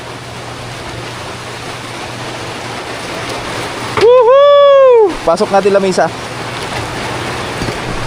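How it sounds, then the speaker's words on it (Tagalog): Heavy rain pours down steadily, a loud continuous wash that runs throughout, while people shout and talk over it. "Ulan-ulan man."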